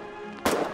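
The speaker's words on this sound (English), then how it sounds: "He threw a grenade." A grenade goes off in the war game Foxhole, a single sudden close blast that bursts in about halfway through and trails into a noisy rumble over a steady background hum.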